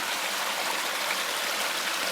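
Mine Brook, swollen by rain, overflows and runs around a trail crossing in a continuous, close rushing wash of water with no breaks.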